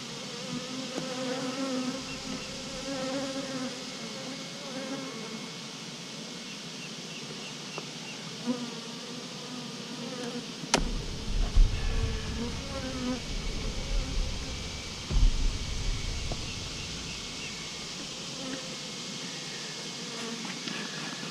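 Honeybees buzz steadily around an open beehive during a frame inspection, a dense, continuous hum close by with shifting pitch, occasional louder passes near the microphone and low handling thumps in the second half.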